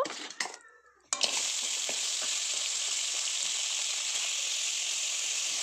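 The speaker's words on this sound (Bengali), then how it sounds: "এখন কাঁকড়ার দাঁড়াগুলো ভেজে নেব।" Crab claws for a spicy crab curry go into hot oil after a short clatter, setting off a sudden loud sizzle. It then holds as a steady, close frying hiss until the end.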